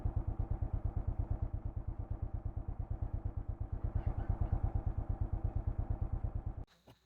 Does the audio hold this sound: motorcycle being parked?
yes